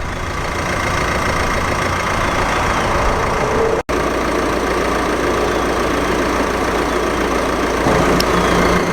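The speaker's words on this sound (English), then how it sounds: "now the turbo diesel is cranked up and running" A 2018 Chevrolet Equinox turbo diesel idles steadily nearby, a continuous low rumble with mid-range clatter and a brief dropout partway through.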